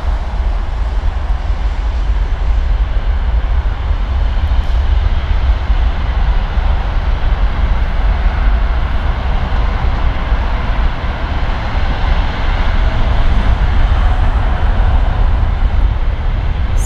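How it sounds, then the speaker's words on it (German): Emirates jet engines roar steadily at Frankfurt airport, a loud, sustained broadband rumble with heavy low-end pressure that holds unbroken throughout, with no talking. "Mit richtigen Druckwelle im Bauch von den Triebwerken,"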